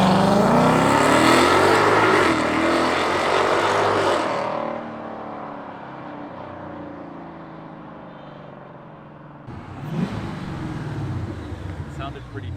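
A Ford Mustang S650 with a modified exhaust pulls away loudly, its engine note rising then easing to a lower rumble before swelling again, with people talking over it from inside the car.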